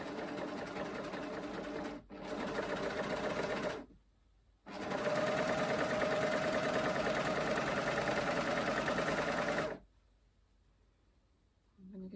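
A sewing machine stitches the end of a tee shirt sleeve in three bursts of steady, fast whirring. The bursts are broken by short pauses, and the longest runs for about five seconds before the machine stops.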